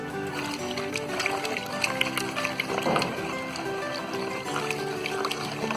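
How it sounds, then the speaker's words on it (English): Jaggery-based liquid fertilizer is stirred in water with a wooden stick, giving continuous close sloshing and swirling with soft knocks and taps against the container, no talking. "So now we'll take a wooden stick like this and mix everything well."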